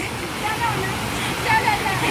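Steady roar of rushing water from the Alayaman waterfall at dusk, broad and continuous, with faint voices underneath.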